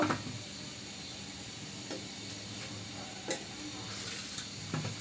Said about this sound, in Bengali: এটা আমার পেঁয়াজও ভাজা হয়ে গেছে আমি একটু কড়া করে ভেজে নিচ্ছি